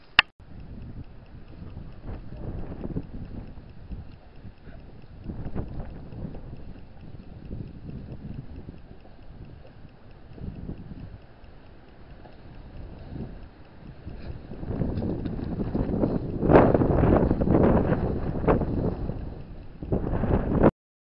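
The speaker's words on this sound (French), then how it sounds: "je parle fort parce qu'il y a énormément de vent aujourd'hui" Strong gusts buffet the microphone outdoors in deep winter cold during a test of a homemade pulka sled built from recycled materials, a continuous low rumble swelling into heavier, louder blasts toward the end.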